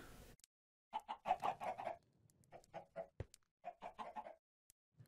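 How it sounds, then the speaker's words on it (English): Chickens in the game Minecraft cluck in quick bursts of short, clipped calls, with a few pauses between groups of clucks. "There's a lot of chickens."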